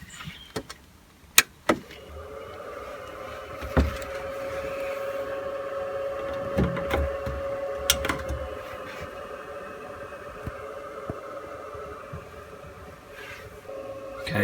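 The fan of an electric heater in a camper van runs with a steady, somewhat noisy whir, joined by occasional clicks and knocks nearby.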